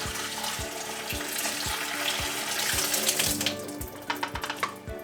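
Rinse water is dumped out of a film developing tank, a sustained splashing pour that tapers off into a few last drips, under a steady thumping music beat.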